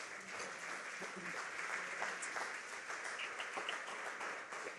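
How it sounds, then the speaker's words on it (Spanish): A church congregation breaks into sustained, dense clapping from many hands, filling the room evenly for several seconds with a steady, rippling texture. "Denle un aplauso, Señor, que eso es muy bonito."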